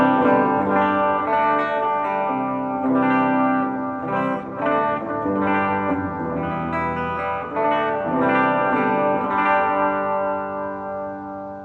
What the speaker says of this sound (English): nothing on the guitar except for going straight in, except for the carbon copy delay and the marine layer reverb.